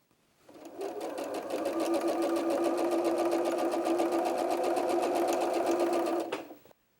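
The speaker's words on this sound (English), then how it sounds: "The next step is to sew those last 5 seams together" A sewing machine stitches the final seams of a Dresden plate quilt block, a close, steady whirring run of about six seconds with a rapid needle rhythm that starts and stops cleanly, with no voices.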